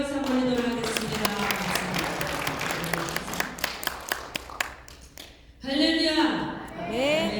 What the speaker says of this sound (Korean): 우리 하나님께 영광의 박수 한번 드리도록 하겠습니다